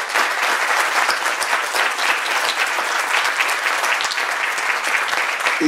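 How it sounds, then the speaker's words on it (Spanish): An auditorium audience claps loudly and continuously after a panel at an academic event, a dense, even wash of hand claps lasting several seconds with a faint crowd murmur beneath. "Pido por favor un fuerte aplauso para ellos."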